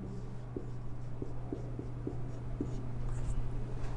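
Marker or chalk writing on a classroom board during a lesson, with a steady series of faint taps and strokes over a constant electrical hum, no voice.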